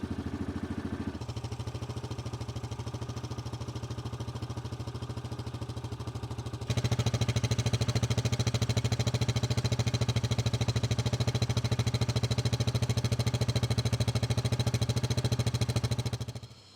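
A 2024 Yamaha Grizzly EPS ATV engine idles steadily with a rough, rattling drone, stepping up louder partway through and holding until a quick fade at the end.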